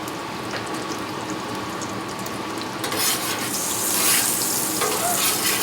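Omelette mixture and shredded potato sizzling and being stirred on a buttered Griddle Master Top, a steady close frying hiss that swells brighter and louder partway through, with no talking.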